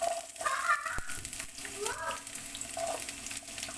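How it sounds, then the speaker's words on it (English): Onion sautéing in 2 to 3 tablespoons of heated olive oil for a Filipino salmon and shrimp sinigang, a soft steady sizzle with a sharp clatter as the onion drops into the pan, faint voices underneath. "So first we have to dump our onion."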